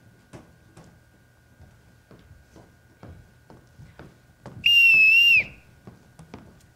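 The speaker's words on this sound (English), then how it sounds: "Here's your whistle, Captain." A captain's whistle gives one sharp, loud blast lasting about a second, sounded alone in a stage production of The Sound of Music, with scattered footsteps and light knocks around it.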